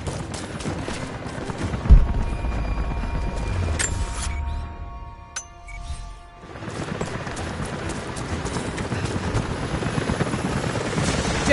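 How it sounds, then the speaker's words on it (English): In a video game, helicopters approach with a loud, continuous rotor chop that thins out for a moment midway and then builds again, together with scattered sharp impacts, and no talk is heard. "helicopters are headed your way."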